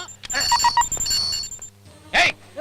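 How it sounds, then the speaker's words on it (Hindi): A mobile phone rings with short repeated electronic tones amid background noise and faint voices, then a brief louder burst near the end. "तेरा मोबाइल बज रहा है।"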